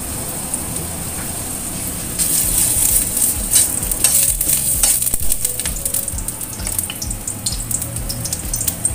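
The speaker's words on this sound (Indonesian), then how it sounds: "setelah minyak panas, masukkan pertama kali jahenya" Ginger dropped into hot oil in a wok sizzles steadily, the frying hiss swelling louder after a couple of seconds and holding, with a few stirring scrapes, no voices.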